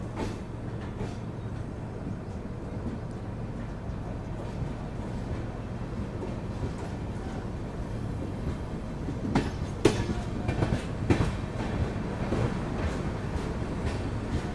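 Kashi Vishwanath Express pulling out of Garhmukteshwar railway station, a steady low rumble of rolling carriages with faint wheel clatter throughout and a few louder clanks and squeaks near the end.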